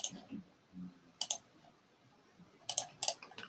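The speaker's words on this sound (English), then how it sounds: "I'm clicking" A computer mouse clicks quietly during work in Autodesk Inventor CAD software, with a few scattered single clicks followed by a quick cluster of three or four near the end, with no talking.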